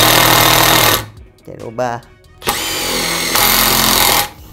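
A Milwaukee M12 FID cordless impact driver runs in two of its speed modes: a loud, sustained rattling whir, then a pause where someone speaks briefly, then a second long, close burst of rapid hammering.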